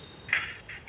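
A bird in the Mini Block Craft 2 video game gives two short, bright honking calls about half a second apart, loud and alone.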